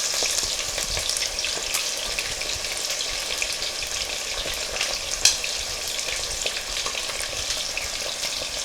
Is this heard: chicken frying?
yes